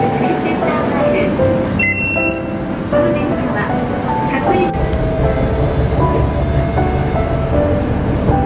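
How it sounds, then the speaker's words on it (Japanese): Utsunomiya Light Rail tram approaching a stop, a loud rumble under a repeating electronic chime and spoken platform announcement, with the tram's noise steady throughout. "電車が来ます。"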